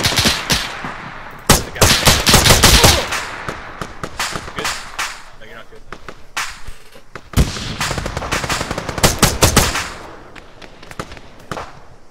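Rapid machine gun bursts crack loudly in a military shooter game, several sharp volleys separated by short lulls, with a faint voice now and then between the shots.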